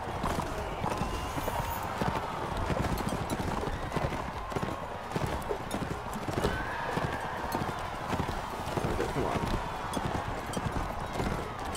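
Horses galloping in the video game Mount and Blade Warband, a dense continuous clatter of hooves with occasional neighs, busy and sustained throughout.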